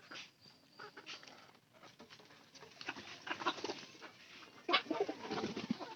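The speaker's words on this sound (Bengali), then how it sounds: "এই যে সাদা পায়রা, পায়রিটাও নামছিল কিছুক্ষণ আগে" White pigeons coo softly and repeatedly at close range, with light fluttering and pattering throughout.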